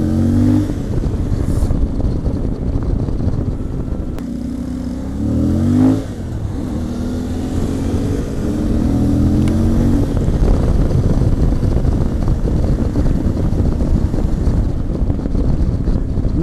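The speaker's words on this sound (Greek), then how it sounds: "η μοτοσυκλέτα που οδηγάω" A motorcycle ridden along a road at steady speed, its engine drone rising and falling with a brief revving swell around the middle, heavily buffeted by wind noise throughout with no talking.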